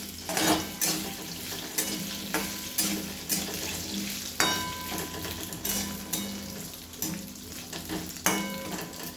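Potatoes and chutney for sabudana khichdi are stirred in a pan, the spoon scraping in regular strokes over a soft background sizzle, close by and with no voices.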